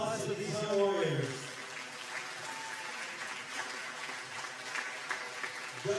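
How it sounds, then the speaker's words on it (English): Crowd applause at an amateur boxing event after a youth bout, a sustained wash of clapping in a hall that continues steadily after a brief spoken announcement at the start. "let's give a round of applause for these young warriors"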